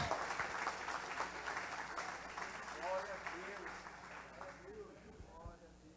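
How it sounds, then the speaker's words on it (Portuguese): A congregation claps during a church Sunday school service, with steady applause that thins out over several seconds while voices and murmured talk rise beneath it. "Aplauda o Senhor nessa manhã"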